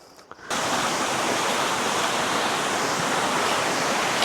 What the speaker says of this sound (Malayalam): അത് നോക്കേ, നല്ലൊരു വെള്ളച്ചാട്ടം മുകളിൽ നിന്ന് ഇവിടുന്ന് ഒഴുകി വരുന്നതാണ്